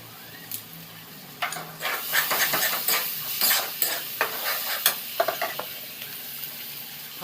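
Egg mixture with pepper and tomato sauce is stirred as it fries in a pan for Chinese pasta, giving a steady sizzle broken by irregular scraping strokes of the spoon, close and fairly loud, with no voices.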